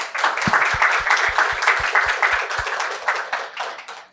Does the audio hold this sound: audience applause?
yes